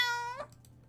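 A single short cat meow from the video game Hustle Cat, clear and close, trailing off into quiet background music.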